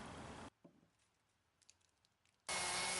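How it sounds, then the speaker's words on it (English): Drilling 1/8 inch holes through a wooden handle and an old steel adze head: a loud, steady drill whine for about half a second, a quiet pause, then the drill running loud and continuous again. "I drill 4 1/8 inch holes through the handle and the head"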